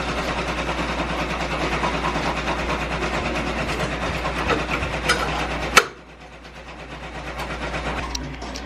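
A Melco EMT16X embroidery machine runs a placement stitch on a shirt, giving a steady, fast mechanical chatter that stops abruptly partway through. A quieter hum follows the stop, then the machine starts to pick up again.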